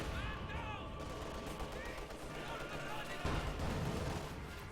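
Rapid machine-gun bursts from a Panther tank's triple MGs in a Company of Heroes 2 battle, dense overlapping gunfire with distant explosions, heard under a commentator's continuous talk.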